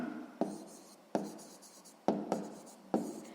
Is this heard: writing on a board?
yes